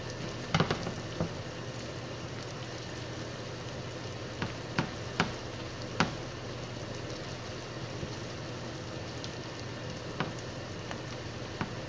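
Philly cheesesteak filling frying in a pan on a stovetop, a low continuous sizzle and bubbling hum broken by several sharp pops and crackles scattered across the stretch, with no voices.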